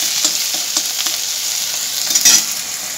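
Ginger paste fries in a pan with a loud, close sizzle, broken by a few quick stirring taps and scrapes.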